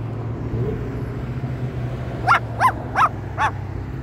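A dog barks outdoors four times in a fairly even rhythm, each bark clear and moderately near, over a steady low rumble of background traffic or machinery near a construction area.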